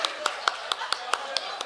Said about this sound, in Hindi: भाई जोरदार तालियां अवधेश निगम साहब के लिए